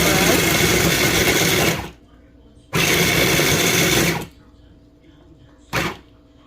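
An electric food chopper whirs through pecans in three loud pulses: two long runs, then a short final burst, with near silence between them and no one talking.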